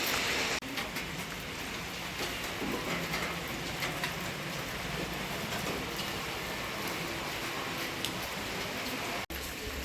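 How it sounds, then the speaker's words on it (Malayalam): Steady, dense night rain at Guruvayur, Kerala, hisses without a break, loud and close, with a faint low rumble underneath and no voices. "രാത്രി ഇവിടെ നല്ല മഴയുണ്ട്"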